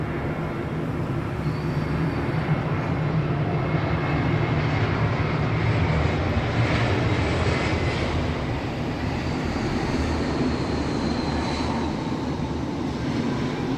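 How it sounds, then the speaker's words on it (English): An airplane flies overhead outdoors, a loud, steady engine rumble that swells slightly midway and holds throughout, with no voices. "Where is the plane?"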